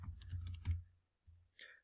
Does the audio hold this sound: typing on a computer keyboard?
yes